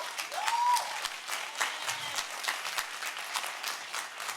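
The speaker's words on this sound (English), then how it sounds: "let's give them another round of applause, please." Audience applause at a live stage talk event, a dense, steady wash of many hands clapping that runs the whole time, moderately loud with a slight swell early on.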